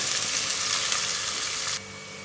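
Fennel seeds, green chillies and onions sizzle in hot oil for chicken biryani, making a loud, steady hiss up close that drops off sharply near the end.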